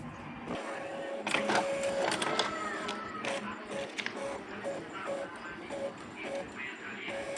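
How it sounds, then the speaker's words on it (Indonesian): Epson inkjet printer printing a document, with repeated mechanical whirs, clicks and carriage sweeps back and forth at close range, plus a recurring thin motor whine in the pauses between passes. "Akhirnya printer saya sudah bisa ngeprint kembali ya teman-teman."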